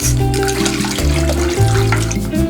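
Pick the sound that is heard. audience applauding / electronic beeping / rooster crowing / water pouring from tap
water pouring from tap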